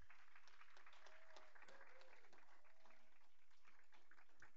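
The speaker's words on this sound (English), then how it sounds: "Let's give them a round of applause." Steady applause from a large crowd at a school board meeting fills the room, continuous clapping with scattered whoops and a few brief voices mixed in.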